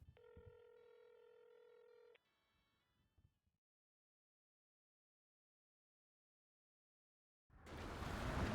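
A phone in the GTA NoPixel video game plays a run of steady dialing tones for about two seconds, followed by faint clicks, silence, then a burst of loud noise at the end.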